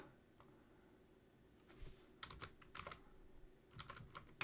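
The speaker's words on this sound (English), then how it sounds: "let me just type it in." Computer keyboard typing during a live options-trading session, quiet at first, then bursts of close, crisp key clicks in irregular clusters over the last half, with no talking.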